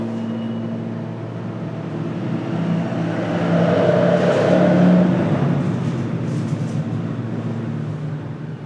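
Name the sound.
truck passing by outside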